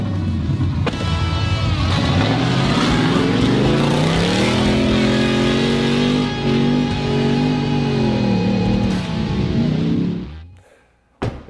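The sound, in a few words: Ford Raptor trucks tearing around a dirt track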